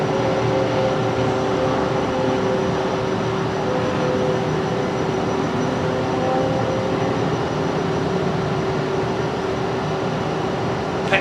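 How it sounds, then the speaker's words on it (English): An old-fashioned jet airliner engine roars steadily at Miami airport, a constant broad rumble and whine that stays loud and unchanging throughout with no voices. "love the old-fashioned jet sound"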